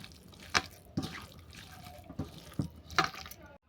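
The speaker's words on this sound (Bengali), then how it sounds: "এরপর এটা আমি হাত দিয়ে মেখে নেব।" Raw chicken being mixed by hand with soy sauce and salt as a momo filling, giving wet squelching and slapping sounds in uneven bursts, close and moderately loud.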